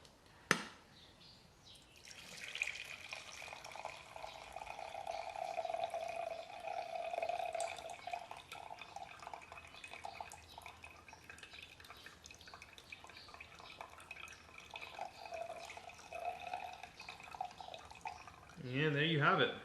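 Frothed French press coffee latte being poured out makes a soft, steady liquid trickle with a faint tonal ring, beginning after a sharp click and running quietly for most of the clip, ending in a brief clatter.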